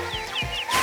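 Cartoon birds chirp in short, rising squeaky calls, three or four quick notes over a steady musical background, close and bright.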